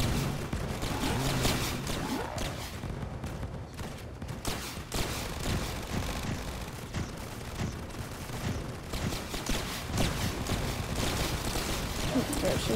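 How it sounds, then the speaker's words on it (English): Dense, continuous explosions and rapid gunfire from a Roblox Tower Defense Simulator match, explosive towers against a molten-mode boss, booming bursts layered thickly throughout with a player talking over them. "There's just so many explosions."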